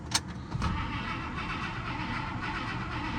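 A 1958 Buick Special with a 364 nailhead V8 and two-barrel carburetor cranks briefly, then catches and settles into a loud, steady running rumble after sitting for two years.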